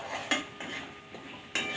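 Spices are stirred and sautéed in a pan, with a spoon scraping and clinking against the metal in several short strokes, close and clear with a light sizzle underneath.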